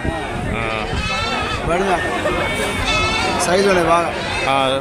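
Many goats bleat over one another at a goat market, loud and close, with people talking amid the herd noise.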